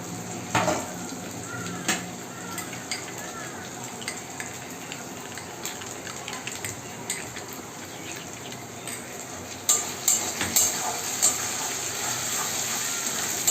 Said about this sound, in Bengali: আমি আদা রসুনের পেস্ট দিয়ে একটু হালকা করে সুন্দর করে কষিয়ে নিয়েছি।